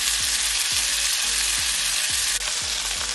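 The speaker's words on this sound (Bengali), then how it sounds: "চিকেন সাসলিকটা আমি 4-5 থেকে সুন্দর করে ভেজে নিয়েছি।" Chicken shashlik frying in butter and olive oil, a loud, dense, continuous sizzle with a soft thump roughly every half second, steady throughout with no talking.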